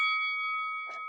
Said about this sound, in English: I ring the bell one time for my favorite folks, which is all of you